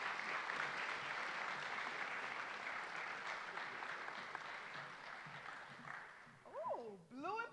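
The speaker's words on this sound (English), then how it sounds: "Come on, another round of applause." Audience applause at a college award ceremony at Chipola College, a steady wash of clapping that slowly thins, ending as a voice speaks over the fading claps.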